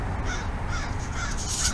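Crow cawing outdoors during a walk, harsh calls repeating over steady wind-like background noise, fairly distant and alone without voices.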